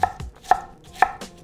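A knife chops through an onion on a cutting board with four crisp, evenly spaced thuds about half a second apart, loud and close with nothing else heard.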